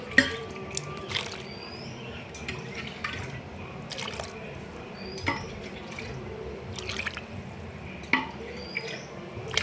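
Water trickles and drips in a home kitchen while sweet aval kolukattai dumplings are made, with soft scattered drops and splashes, fairly quiet and steady with no voices.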